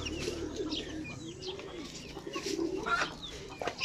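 Small birds chirp and peep close by around a nest holding three eggs, with cooing from nearby birds mixed in; the calls come as steady overlapping tweets throughout.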